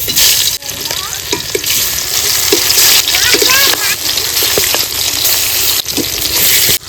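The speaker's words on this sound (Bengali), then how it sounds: "মাছগুলো আগে থেকে লবণ হলুদ মাখিয়ে নিয়েছি এবার ভেজে নেব" Pieces of a large silver carp, rubbed with salt and turmeric, fry in hot mustard oil in a kadai, giving a loud, steady, close sizzle with crackling spatters throughout.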